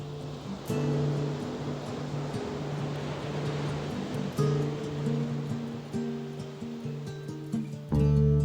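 Ocean waves wash onto a beach as the opening of a song, a broad steady surf wash laid under sustained musical tones that swell and shift throughout, with a louder surge near the end.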